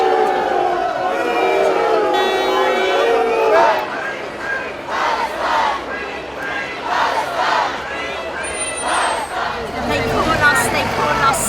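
Crowds of protesters during Netanyahu's visit to the UK, a loud mass of chanting and shouting voices rising and falling in rhythmic waves, dense and nearby.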